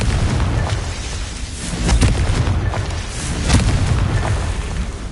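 A Confringo blasting spell explodes in a loud, rumbling blast, with heavy booms swelling twice amid a continuous roar of debris and noise.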